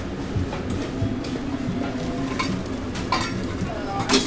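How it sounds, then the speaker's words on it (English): An Impossible Burger patty cooks on a grill, giving off a steady, close sizzle with faint crackles and a few louder pops over about four seconds. "Impossible Burger is cooking."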